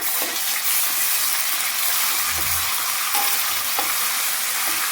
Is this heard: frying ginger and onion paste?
yes